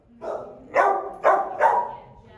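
A dog at the Wake County Animal Center shelter gives a short rising whine followed by three sharp, loud barks in quick succession, close by.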